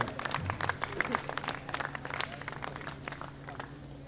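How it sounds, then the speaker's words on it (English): Scattered clapping from the crowd at a pro tennis challenge finals ceremony, individual claps distinct and fairly close, fading gradually over a few seconds against a low hum. "So just a round of applause for all of our sponsors that help contribute to this event."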